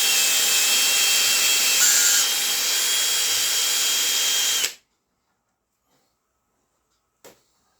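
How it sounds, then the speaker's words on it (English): A drill fitted with a small wool polishing mitt buffs the clearcoat on an Ibanez Talman bass body, giving a loud steady whirring hum with light rubbing that stops abruptly, followed by near silence and a brief tap. "Just with my little wool polishing mitt on the drill."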